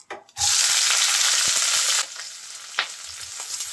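Onion hits hot oil with cumin and bay leaf in a pan, bursting into a loud, close hiss that settles after a couple of seconds into a softer sizzle with light taps.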